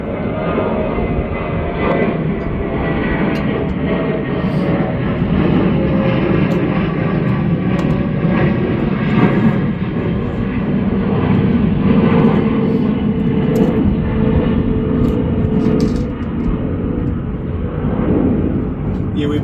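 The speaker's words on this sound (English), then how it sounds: "we're by the airport, so as soon as I start doing some videoing, all the airplanes take off" A broad, continuous roar of jet aircraft rumbles through the whole stretch, loud and steady, with a voice faintly talking underneath.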